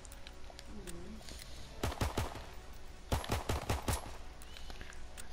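Gunfire in Call of Duty: WWII, with two bursts of several rapid shots each, fairly close over steady background game noise.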